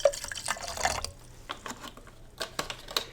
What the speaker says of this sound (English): And we got 3 ounces of pineapple juice.